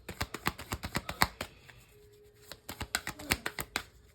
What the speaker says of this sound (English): These cards are new, so it takes them a while to shuffle.